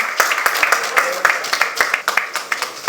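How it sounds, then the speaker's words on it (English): Applause from a press-conference crowd greeting actor Salman Khan at the 68th Filmfare Awards, sharp individual claps popping irregularly through a steady rustle, close and lively for the whole stretch. "A huge round of applause for Mr. Khan."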